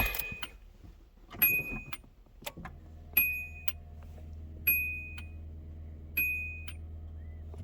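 After a few clicks, a low hum from a newly fitted upgraded electric fuel pump priming in a Nissan 200SX S12 starts and runs steadily, while sharp chimes ring out at regular intervals over it.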